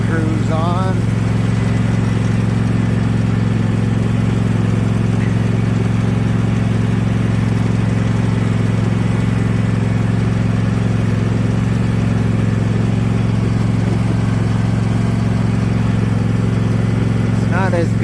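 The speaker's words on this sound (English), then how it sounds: "I don't want you to hear all this engine noise. So this tractor kind of has a cruise control on it." A tractor pulling a lawn aerator runs on cruise control at a constant loud drone for the whole stretch, with someone talking over it.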